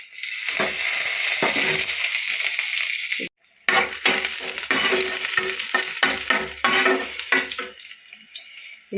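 Mustard seeds and dal crackle and sizzle in hot oil in a pan, a loud close frying hiss broken by popping bursts and stirring scrapes, with a brief gap partway through.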